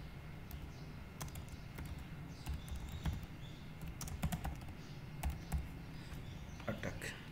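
Light keystrokes tap on a computer keyboard in scattered quick clusters, faint and close, under a person speaking Hindi against a low background hum.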